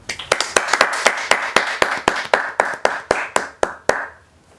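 One person claps about fifteen times in a steady rhythm, each clap sharp and close, then stops; a sports podcast setting in a quiet room.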